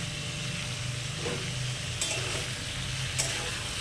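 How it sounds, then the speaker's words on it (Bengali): Green banana curry with spices being stirred in a pan, a steady soft sizzle with occasional scrapes of the spoon, close and even throughout. "এবার সবজিটার সাথে মশলাগুলো ভালো করে নাড়িয়ে চাড়িয়ে মিশিয়ে নেওয়া হচ্ছে।"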